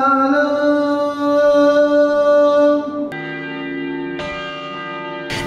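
A church bell in Nazimabad, Faisalabad, rings with long sustained tones, one strike giving way to another of a different pitch, ringing clearly with no talk.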